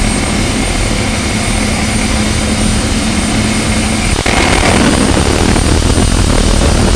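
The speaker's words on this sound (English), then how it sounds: "John Robinson going to spool up that turbo diesel." A jet dragster and a turbo diesel dragster roar side by side at the launch, a loud continuous turbine whine and engine drone filling the strip, with a sharp surge just past the midpoint as they go.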